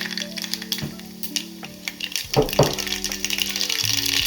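Mustard seeds sizzle and crackle in hot oil in a saucepan, a close, continuous frying hiss with sharp popping bursts and a few clinks.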